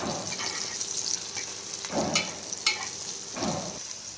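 Green chillies and garlic sautéing in oil in a home kitchen, a steady soft sizzle with a few stirring scrapes and clinks of a spoon against the pan, close and fairly quiet, no talking.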